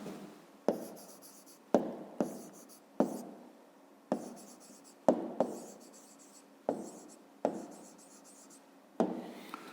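A pen writes a maths answer on paper, close and fairly quiet, with a series of sharp taps and short scratchy strokes that come every second or so and fade between them.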